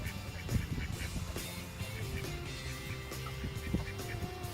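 Several ducks on a small farm quack and honk intermittently over a steady outdoor background, the calls moderately close and repeating irregularly with no talk.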